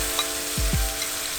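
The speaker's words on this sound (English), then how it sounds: "The sizzle of the splatter." Thin coconut milk poured into chilies, onions and spices frying in a pan for a Kerala-style chicken stew, giving a steady, loud sizzle with a few sharp splatter pops and stirring scrapes, no voices.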